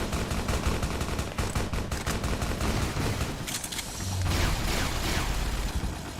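Rapid bursts of gunfire in Fallout: New Vegas, dense and continuous like a firefight, with a heavier blast in the middle and no talk over it.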